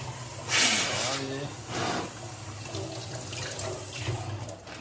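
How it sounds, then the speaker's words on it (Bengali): Water is poured into a small amount of milk in a home kitchen, giving a brief splashing rush near the start, with a person talking throughout. "জল একটু মিশিয়ে নিই"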